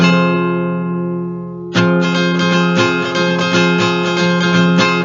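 A guitar chord, a D shape moved up the neck, rings out and decays, then is strummed repeatedly in a steady rhythm, loud and close.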